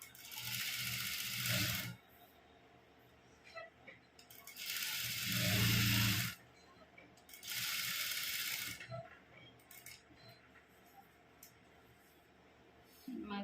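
A sewing machine stitches canvas onto a churidar neck in three short whirring runs separated by pauses, close, with faint handling sounds between them.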